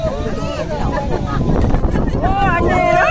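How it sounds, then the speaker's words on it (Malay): Wind buffets the microphone outdoors in a steady low roar, with people talking and chattering underneath throughout. "Wah, angin."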